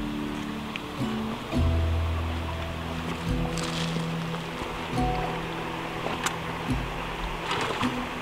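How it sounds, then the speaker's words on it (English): Water rushing steadily through a broken-open beaver dam outdoors, a continuous broadband wash at moderate level with no talking. "So you got the water flowing."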